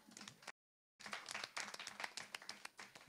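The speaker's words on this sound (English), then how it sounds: "I think we should give yourselves a round of applause for all the work that you're doing in your neighborhoods." A town hall audience gives a round of applause, a burst of many hands clapping close and fairly loud, broken briefly by a cut of silence before resuming with scattered sharper claps.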